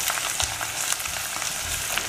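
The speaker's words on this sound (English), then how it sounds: "Fry it a little." Ginger garlic paste fries in a pot for mutton pulao, giving a dense, continuous close-up sizzle with small crackling pops and light stirring throughout, loud and steady with nobody speaking.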